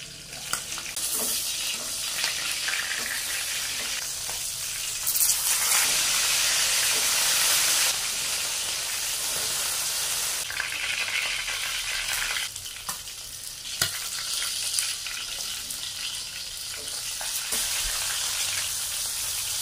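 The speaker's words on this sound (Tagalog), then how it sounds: "Ganyan ako magprito guys. Takpan para iwas talsik." Fish frying in oil in a covered pan, a loud, continuous close sizzle and hiss with steamy bursts and occasional crackles and pops throughout.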